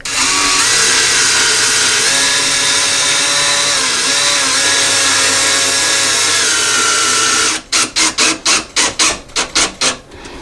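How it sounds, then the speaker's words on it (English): A power drill drives a screw through a shim into a wall stud while a bathroom vanity is installed, with a long continuous whirring run and then a burst of short, sharp pulses near the end, loud and close. "we're going to put our screw through here into the stud"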